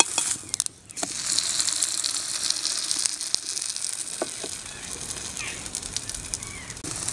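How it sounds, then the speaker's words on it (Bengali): Palm-fruit luchi frying in hot oil over a low flame, giving a steady broadband sizzle with a few sharp clicks and pops, fairly close and continuous, with no talk. "একটা পিঠ আমি 2 মিনিট ভেজেছি,"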